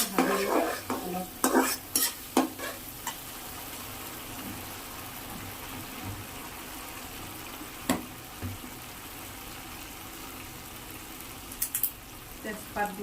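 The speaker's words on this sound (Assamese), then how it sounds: "এনেকৈ ভাজিলোঁ অলপ" Masala chicken frying in a pan with tomato sauce, a low steady sizzle broken by sharp clusters of spoon scrapes and stirs at the start and again near the end.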